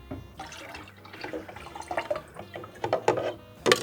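Liquid fertilizer poured from a container into a plastic watering can holding water, irregular splashes and trickling drips that start quietly and grow louder in short bursts, close by and with no talking.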